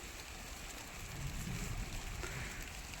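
First monsoon rain falling in a village, a steady, soft broadband patter that swells slightly in the middle, heard alone with no voices.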